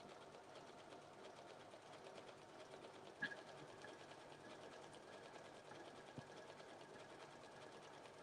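A sewing machine runs steadily while working a wide, long blanket stitch on a quilt, giving a continuous fast mechanical whir with rapid needle ticks, quiet and even, with one brief knock partway through.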